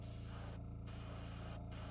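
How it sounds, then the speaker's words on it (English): Light bursts of spray paint misted onto a painted miniature for zenithal highlighting, a steady hiss with brief dips, close and moderately loud over a constant background hum. "And I'm just going to spray very lightly."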